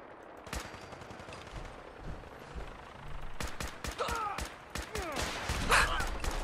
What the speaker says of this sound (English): someone's shooting some rockets